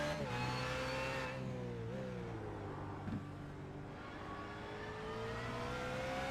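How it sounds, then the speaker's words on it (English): Car engines in the iRacing video game at Brands Hatch rev and whine continuously, with pitch rising and dipping as they accelerate and shift, a steady racing drone with no talking. "Some nice sound of the cars out here."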